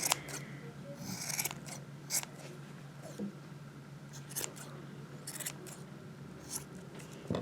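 Scissors snipping yarn ends while trimming a multicolored pom-pom, a series of quick, close, crisp cuts at an irregular pace over a quiet background, with no talking.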